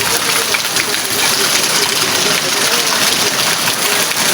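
Heavy rain and strong wind during a storm, a loud and dense broadband roar of gusting air and downpour that stays constant throughout, close to the microphone.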